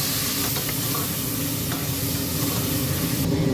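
Tomato hitting a hot pan for biryani, a loud steady sizzle and frying hiss with light stirring scrapes, continuous across the few seconds.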